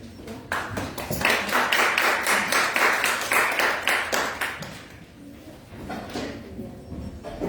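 A congregation claps together during a Sunday praise and worship service in church, dense applause that swells loudly for several seconds and then gradually thins out.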